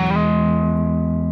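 Electric guitar struck harder so the tone tips into slight distortion: one sustained, buzzy chord ringing out evenly for over a second, loud and alone.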